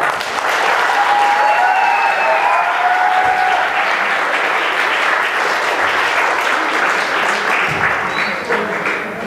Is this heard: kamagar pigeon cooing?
no